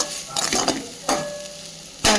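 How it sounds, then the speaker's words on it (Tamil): Ginger garlic paste being sautéed in a pan for a mushroom pepper masala: a steady sizzle with a few stirring scrapes and clinks, ending in a louder burst of frying. "இஞ்சி பூண்டு பேஸ்ட்டு போட்டு அதனோட பச்சை வாசனைலாம் போகிற அளவுக்கு நம்ம நல்லா வதக்கி விட்டுறணும்"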